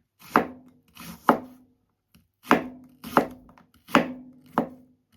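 A Civivi Hid folding kitchen knife slices through red onion onto a cutting board, making six crisp, close cuts in an uneven rhythm, each a sharp knock with quiet gaps between.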